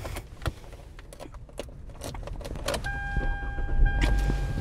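A 2016 Hyundai Elantra GLS being started, with clicks and key jangles followed by a faint engine catching and settling into a soft idle hum, close and quiet inside the car.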